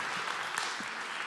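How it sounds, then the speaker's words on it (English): Audience applause at a motivational talk, a steady wash of many hands clapping at moderate level for the whole brief moment, with no voices over it. "Big round of applause."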